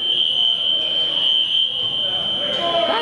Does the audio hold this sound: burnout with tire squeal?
no